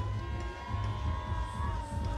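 A massive crowd cheers and shouts at a People's National Movement local government election rally, a steady dense roar with whoops rising throughout, loud and close.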